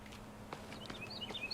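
Faint, brief bird chirps in a survival video game, a few thin high tweets near the end over quiet soft footstep-like shuffling.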